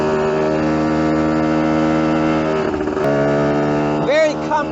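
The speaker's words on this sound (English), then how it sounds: "Rides good though for an old motorbike." An old Yamaha enduro motorcycle engine drones steadily at a constant, throaty pitch while riding, close by, then briefly shifts and revs near the end.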